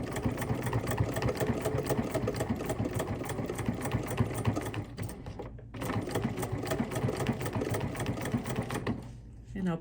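A sewing machine runs steadily, stitching a paper-pieced gingerbread house quilt block, with a dense mechanical whir that pauses briefly twice before resuming at close range.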